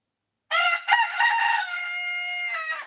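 A rooster crows once at close range, a loud drawn-out call that starts abruptly after a moment of silence, breaks briefly near its start, then holds steady before trailing off, with no other sounds around it.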